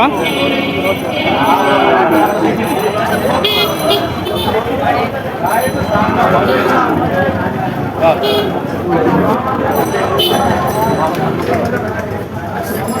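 Bulls and calves low now and then in a noisy roadside livestock market, beneath loud, constant talking from many people close by.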